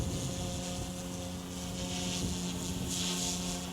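Goosky S2 Max RC helicopter rotor spinning at idle up, a steady whirring drone with a constant low hum, close and continuous, with airy rushing noise rising toward the end.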